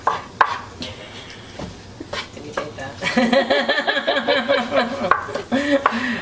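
Frozen cilantro being stirred into sautéed peppers and onions in a pan for gluten-free vegan tacos, a run of close scraping, clinking utensil-on-pan sounds with light sizzle, partly under talk.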